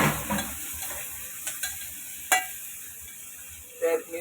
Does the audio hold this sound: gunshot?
no